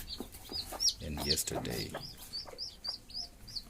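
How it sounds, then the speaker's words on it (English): Newly hatched chicks of the local kienyeji chicken breed peep in repeated thin, high chirps, with a hen's low clucks mixed in, while a person speaks briefly. "So this one has hatched these chicks today"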